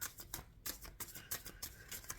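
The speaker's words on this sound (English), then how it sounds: "I am shuffling for the concluding message for our Libra collective." Oversized oracle card deck being shuffled by hand, with quick papery riffles and slaps in uneven bursts, close and fairly quiet.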